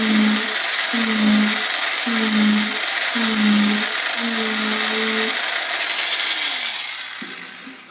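A Proxxon rotary tool fitted with a Brice Roloc adapter grinds a drill bit in about five short, evenly spaced whining bursts, then runs in one longer continuous grind before it winds down, loud and close.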